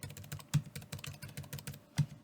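Brisk typing on a Samsung Smart Keyboard Trio 500, a steady run of close, crisp key clicks with a couple of heavier thumps mixed in.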